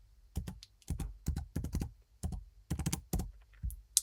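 Computer keyboard typing close up, in irregular bursts of quick clicks with brief pauses, as text is entered into an app input field; no voices.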